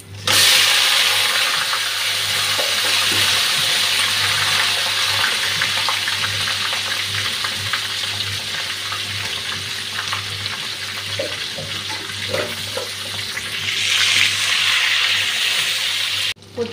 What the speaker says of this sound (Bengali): এখন কচুটা একটু ভেজে নেব।